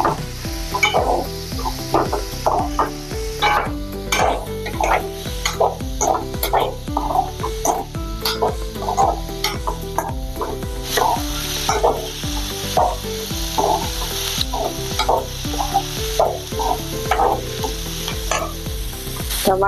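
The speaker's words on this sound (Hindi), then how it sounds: "टमाटर को हमने थोड़ा सा भून लिया है" Tomatoes frying and sizzling in a pan for aloo do pyaza, stirred with a spoon that scrapes in a steady rhythm, loud and close, with a continuous sizzle underneath and no talking.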